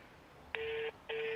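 Two short electronic telephone dialing tones, each held for about half a second, with a brief gap between them, fairly quiet.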